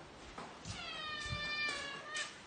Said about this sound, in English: Might go feed the cats while I wait for it.